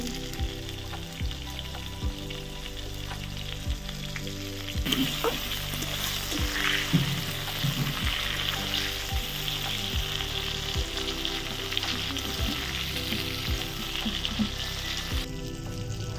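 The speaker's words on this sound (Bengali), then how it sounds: "চুলাতে পটল ভাজা করছি।" Pointed gourd fries in oil on an outdoor wood-fired stove, a steady close sizzle throughout with frequent soft scraping and clacking from stirring and a brief louder flare of hissing partway through.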